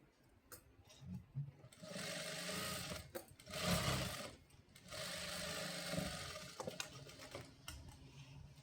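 Stitching a blouse on a sewing machine: two sustained runs of fast, even whirring, each lasting a few seconds and separated by brief stops and handling noises, fairly close and moderately loud.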